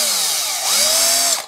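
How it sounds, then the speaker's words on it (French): An electric drill spins an engine valve for lapping on a Dyna Z16 BGS, a loud close whine that shifts pitch as it runs and then cuts off at the end. "Parce que la perceuse, elle ne chope pas la soupape."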